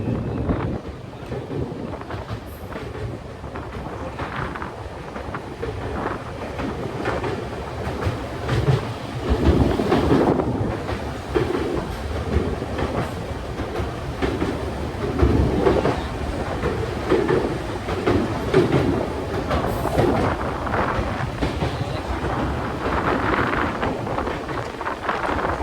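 A train crosses the Pamban rail bridge at Rameswaram over the sea, its steady rolling rumble and clatter running continuously with wind buffeting the microphone throughout.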